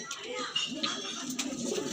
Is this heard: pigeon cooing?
yes